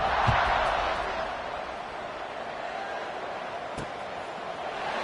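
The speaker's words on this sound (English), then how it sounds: "this crowd is buzzing after that last score" A college football stadium crowd buzzes in a broad, steady roar after a fourth-quarter score, sustained and distant, with a couple of faint thuds.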